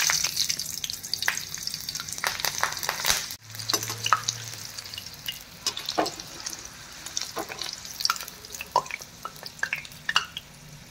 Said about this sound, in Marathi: आता ह्यामध्ये कापलेल्या आपण ज्या मिरच्या आहेत त्या आपण तळून घेऊया.